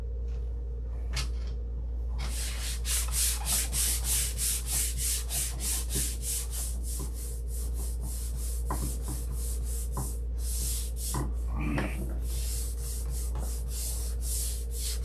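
Steady, rhythmic strokes of sanding and rubbing a dirty surface, each pass close and distinct in a quick repeating pattern, with a few louder scrapes and knocks partway through.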